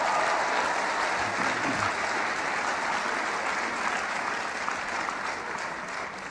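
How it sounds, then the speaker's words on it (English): Sustained, dense applause from a large audience at a motivational talk, steady and full throughout before easing slightly toward the end. "Give yourselves a round of applause."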